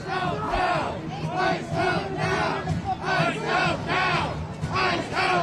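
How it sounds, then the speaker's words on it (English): A protest crowd in Minneapolis chants in loud unison at police, rhythmic shouted syllables repeating about once per second, many voices blending close and dense throughout. "Hear those chants of shame from the crowd, again directed at the local and state police."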